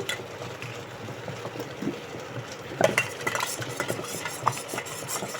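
Ghee and ingredients are stirred together in a bowl with a spoon, giving irregular scraping and clinking strokes, close up, with a sharper knock near the middle.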